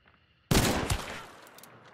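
Shotgun blast in the video game Hunt: Showdown 1896, a single sudden loud boom out of near silence, ringing briefly and tailing off into a fading echo.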